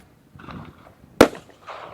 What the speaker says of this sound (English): Taking aim, he fires a blank at the flock. The loud bang scatters the birds.